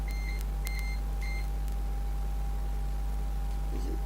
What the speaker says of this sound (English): Oh, that friggin' alarm again.